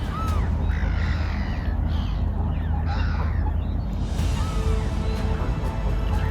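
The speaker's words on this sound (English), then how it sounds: "I'm kind of surrounded right now by 3 Canada geese, as well as a grey lag goose coming over here as well." Canada geese and a greylag goose calling close by at a wildlife nature reserve, harsh honking cries rising over a constant rumble of wind and background noise.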